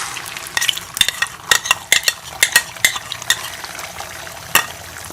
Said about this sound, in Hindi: तो अब इसे ऑमलेट की तरह जो है अंडा इसमें फ्राई कर लेंगे